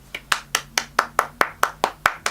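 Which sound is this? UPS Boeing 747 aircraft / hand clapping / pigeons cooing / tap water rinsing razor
hand clapping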